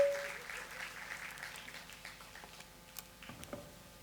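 A church congregation applauding to welcome first-time visitors, light diffuse clapping from a room of people, fairly faint and distant, with a few sharper claps near the end.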